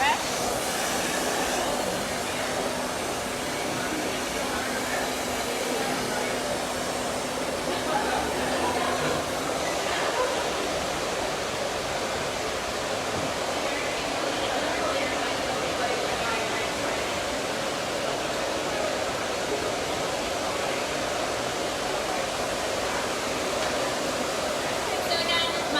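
A hair dryer blasts hot air over curly hair being dried quickly at the back of the head before brushing, a steady, close, unbroken roar lasting throughout, with a person talking over it.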